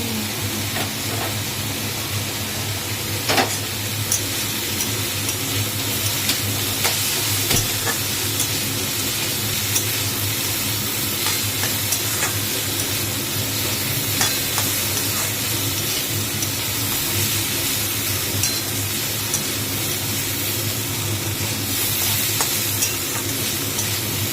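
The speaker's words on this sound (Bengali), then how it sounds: "দেখো, এটা একটু ভাজা ভাজা হবে।" Green chillies frying in hot oil in a wok for egg chow mein give a loud, continuous sizzle and hiss, with occasional clicks from stirring, heard up close for a long stretch without talk.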